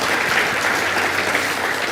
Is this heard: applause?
yes